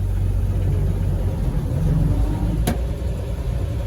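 A 1969 Toyota Land Cruiser FJ40 with a manual H-pattern gearbox pulls away, its mid-pitched engine droning steadily up close with low rumble throughout and a brief sharp click near the end.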